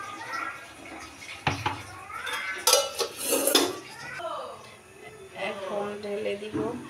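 Eggs and sugar whisked in a bowl for pudding, clattering utensil-against-bowl scraping and clinks in bursts, with someone talking over and between them.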